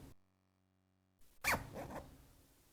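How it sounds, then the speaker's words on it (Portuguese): A zipper is drawn shut on a draped skirt with a cut-out panel, a single quick rasping pull heard close up after a brief quiet pause, followed by soft fabric handling. "E agora eu vou fechar o zíper."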